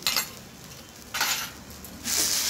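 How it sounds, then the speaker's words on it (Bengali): Gourd and egg curry with spices being stirred in a pan, a utensil scraping and clinking against the metal in three short bursts over a faint sizzle. "দিয়ে আবারও আমি এটাকে ভালো করে নেড়ে দিচ্ছি।"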